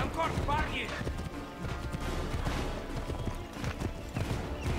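Steady horse hooves clip-clopping in the Assassin's Creed 3 video game, a brisk rhythmic gait under layered game sound and someone talking.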